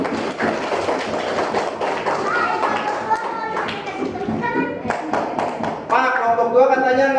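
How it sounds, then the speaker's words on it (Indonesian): Elementary schoolchildren in a classroom clap together for a group, sharp, fairly close claps mixed with excited kids' voices and chatter, with high-pitched children's shouts rising near the end. "Tepuk tangan buat kelompok 1."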